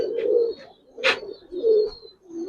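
A pair of silver-necked pigeons coos in soft, low, rounded phrases, three or four close murmuring calls with a brief brighter flutter between them, near and fairly quiet.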